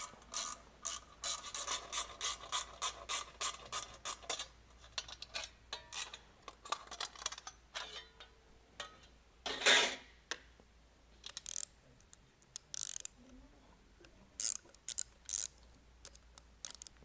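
Set screws are tightened on a DESMI pump, making close metallic ratcheting clicks in quick rhythmic bursts, then pausing, with one louder clank and scattered taps later on.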